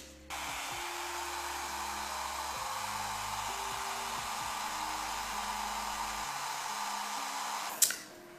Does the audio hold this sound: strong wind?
no